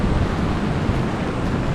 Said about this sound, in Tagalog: Pero mahangin na naman